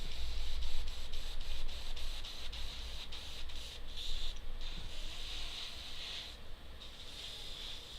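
Spraying at a workbench gives a steady, fairly loud hiss that runs through the whole stretch with small surges and dips. No one speaks over it.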